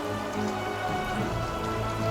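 Steady rain falling, a continuous close patter of drops with no pauses across the short stretch.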